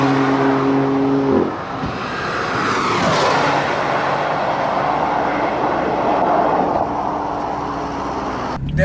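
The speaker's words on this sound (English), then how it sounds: "this automatic dual clutch is phenomenal. I mean, it just rips shifts one after another." A 2015 BMW M3/M4 engine working through its dual-clutch automatic gearbox, with a loud sustained roar and a shift near the start. The engine note then carries on continuously with no talk.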